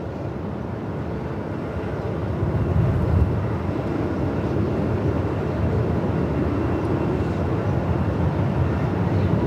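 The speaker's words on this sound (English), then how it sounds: "Qantas 6002, A330 on a repositioning flight from Sydney." A Qantas Airbus A330 on a repositioning flight from Sydney rumbles at Melbourne Airport in gusty 45-knot wind, a steady, broad engine roar that swells slightly and stays constant.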